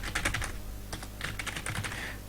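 Typing on a computer keyboard: quick, close clusters of light key clicks in two bursts with a short pause between them, with no talk.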